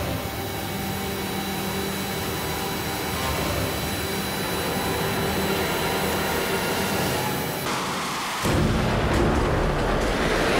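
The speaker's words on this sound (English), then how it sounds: "you'd drag race an Aston Martin against a man on jet-powered roller skates" A steady loud jet roar fills the track as a man on jet-powered roller skates races an Aston Martin V8 Vantage, with a sharp shift in the noise near the end.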